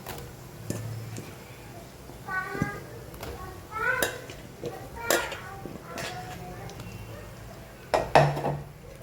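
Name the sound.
stirring potatoes in a cooking pot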